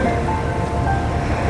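Sea waves washing onto the beach at Porbandar Chowpatty, a loud, continuous broadband roar of surf with some wind noise, no talk.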